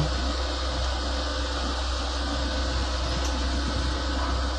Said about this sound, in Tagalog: Parang blower lang dito.